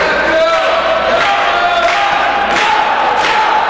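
A wrestling crowd at an SPW event roars steadily, its dense cheering and shouting filling the clip at a constant loud level, with no clear pauses.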